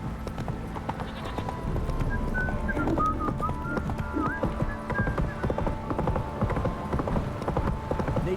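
Horse Roach from the video game The Witcher 3 gallops with steady, rhythmic clip-clop hoofbeats throughout, close and continuous, over a low rumbling game soundscape with faint whistling tones.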